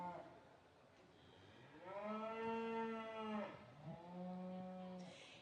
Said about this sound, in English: another Hereford coming into the show ring